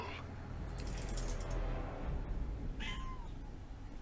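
A pet cat meows close to the microphone in a quiet indoor room, two short distinct calls about two seconds apart, with no talking.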